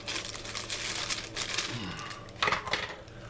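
Plastic crinkles and rustles up close in a steady stream of crackles, with a brief louder crunch near the end.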